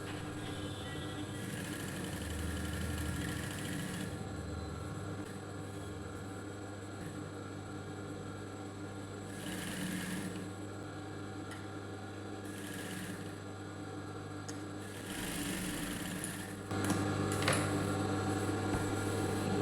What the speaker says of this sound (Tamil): நான் இப்போ எஜ்ஜிலே வரும், இந்த எஜ்ஜிலே தையல் போட்டுக்கலாம்.